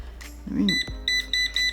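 An air fryer being set to 400 degrees gives a quick series of sharp, close electronic beeps, four or five in a row. A brief voice-like sound comes just before them.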